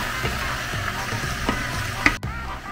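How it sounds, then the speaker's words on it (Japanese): Carrots being stir-fried in a pan as part of a home-cooked stew, a steady close sizzle with a few scraping stirs and a sharp clack near the end, no talking. "ちょっと炒めたら人参が入れて混ぜる"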